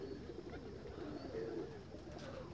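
Pigeons at a rooftop loft coo steadily and softly in a low, continuous warble, a faint but unbroken murmur with no talk over it.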